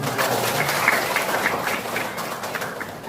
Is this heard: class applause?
yes